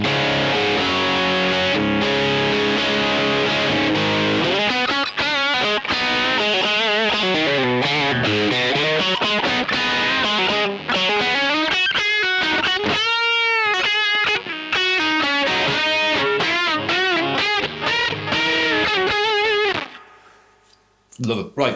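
Electric guitar through a TC Electronic Grand Magnus distortion pedal plays a long, dense run of sustained, bending and fast-moving distorted notes, loud and continuous until it cuts off near the end.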